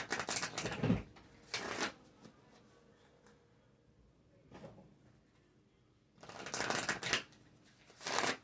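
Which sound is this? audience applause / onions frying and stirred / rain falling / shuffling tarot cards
shuffling tarot cards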